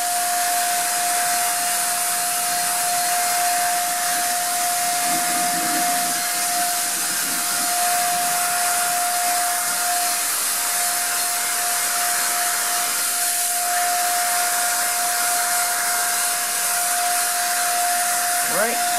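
A paint sprayer applies Eclipse Nano Platinum Slate projection screen paint onto a mirror, producing a steady, close rushing hiss with a constant whine that runs the whole time without a break.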